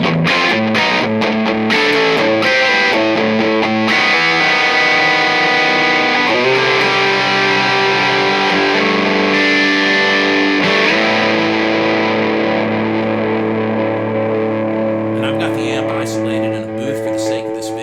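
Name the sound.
Lounsberry Nigel guitar pedal distortion tone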